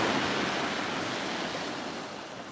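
Sea waves rolling in on the shingle shore at Cley Next The Sea, a steady broadband wash of surf that stays loud and continuous, easing slightly toward the end, with no voices.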